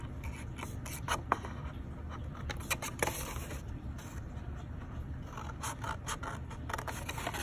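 Scissors snip through paper in quick, close, crisp cuts with rustling and scraping between them, steady throughout with no talking.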